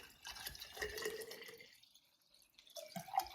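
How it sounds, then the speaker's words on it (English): Distilled water is poured to fill a container, giving a soft trickling, dripping pour for about a second and a half, then a short pause before more faint drips and splashes. "Fill that with water."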